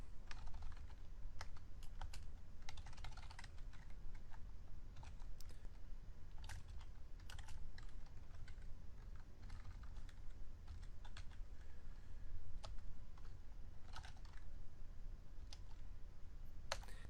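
Steady typing of code on a computer keyboard, continuous quiet key clicks at an irregular pace over low room hiss, with no talking.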